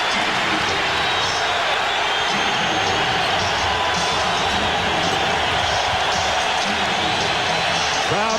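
A packed basketball arena crowd roars and cheers for the New York Knicks against the Indiana Pacers in a 1998 playoff game, a dense sustained wall of noise that runs throughout, with a commentator's voice faintly under it.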